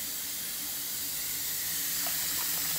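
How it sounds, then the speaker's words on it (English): Hot water runs from a tap in a hotel bathroom as a steady, loud, hissing rush with no pauses. "this is the hot water"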